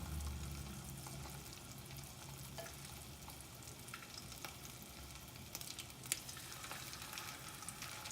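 Steady, quiet sizzling of chicken pieces frying in hot oil, a continuous crackling hiss with a few brief pops.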